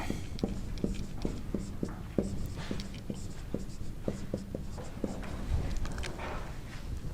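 Chalk or marker writing on a board in an accounting lecture, a steady series of short taps and strokes at moderate distance, heard beneath a lecturer's speech.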